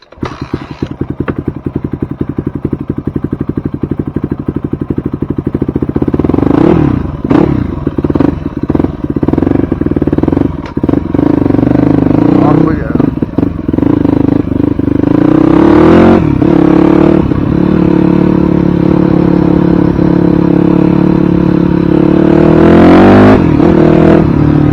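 A 2006 Yamaha WR250F dirt bike engine runs loudly and close up, a steady rough idle broken by several sharp revs and blips that rise and fall, with a little mechanical clatter and no talking.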